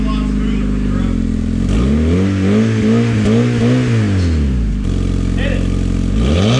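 A Honda Civic fitted with a cheap aftermarket exhaust revs up and down in quick swells, the engine note rising and falling loudly up close, with a brief cut midway and short voices around it.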